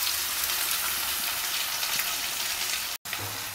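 Sweet corn dhokla batter goes into a hot kadai tempering of sesame seeds, leaves and asafoetida, producing an even, hissing sizzle that runs steadily with a brief cut near the end.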